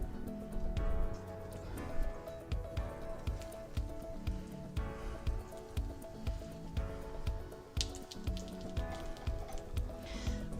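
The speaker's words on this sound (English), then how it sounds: "I'm going to put my rolls in a little bit of butter" Bread rolls toast in a little butter in a hot pan, giving a steady soft sizzle with irregular crackles and pops close by, without speech.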